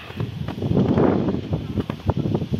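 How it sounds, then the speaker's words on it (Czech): Outdoor wind buffets a microphone, giving a close, loud, uneven low rumble with gusty surges and faint rustling throughout. "Lidi, jestli bude foukat, tak se omlouvám, jako celkem tady fouká."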